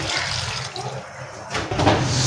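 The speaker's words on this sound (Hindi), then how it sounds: "अब हम इसमें ऐड करेंगे 1 कप पानी।" One cup of water poured into a cooking pot on a lit stove holding garlic, ginger, cinnamon and cloves for homemade ketchup, a steady close splashing pour of liquid that stays loud throughout.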